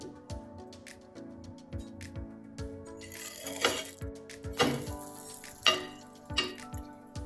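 A chickpea and mung bean sandwich toasts in oil with sesame seeds on a pan, giving a light sizzle broken by repeated sharp clinks and scrapes of a spatula against the pan.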